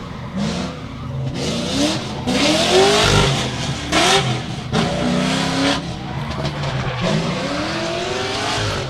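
A GT Skyline drift car on custom D-Spec racing wheels revs hard and slides around Meremere Drift Park during qualifying, engine rising and falling in repeated surges with tire squeal and skids, loud and continuous.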